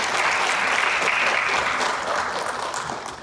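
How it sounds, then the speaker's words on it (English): A school assembly of students claps for a classmate, a dense, even wash of applause that holds steady and loud before easing slightly at the end. "So we'll just give a little clap for Mackenzie."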